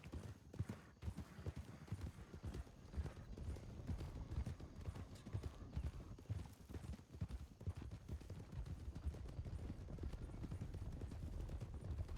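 Horse hooves clip-clopping steadily in the Wild RP game, a close, continuous rhythmic clatter of hoofbeats over a busy background, with occasional faint whinnies and no clear talk.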